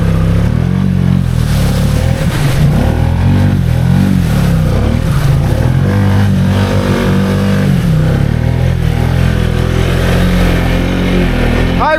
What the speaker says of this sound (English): We're going to go deep in high range just so you can hear how good the clutching is.